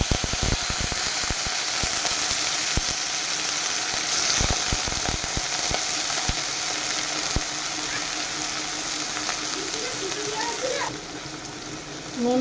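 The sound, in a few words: prawns frying in hot oil in a wok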